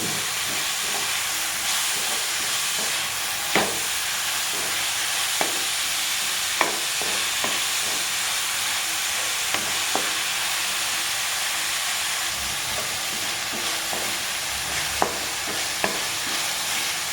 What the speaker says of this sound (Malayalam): ഉള്ളി മൂത്ത് വരുന്നതേ ഉള്ളൂ